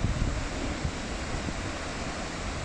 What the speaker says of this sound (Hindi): छम वाटरफॉल का फर्स्ट व्यू